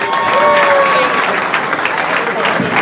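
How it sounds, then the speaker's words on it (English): Guests at an Erie County Democratic Committee holiday party applaud for a speaker, a loud, close, continuous clatter of many hands with cheering and chatter mixed in. "But let's give a round of applause for Jessica Schuster."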